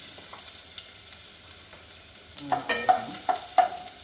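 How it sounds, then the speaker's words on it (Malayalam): Oil sizzling in a pan, then a burst of crackles and pops as mustard seeds and chopped ginger hit it, getting busier toward the end. "കടുക് പൊട്ടി തുടങ്ങുമ്പോൾ തന്നെ നമുക്ക് ഇഞ്ചി ഇട്ട് കൊടുക്കാം"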